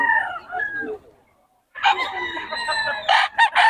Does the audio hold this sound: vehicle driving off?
no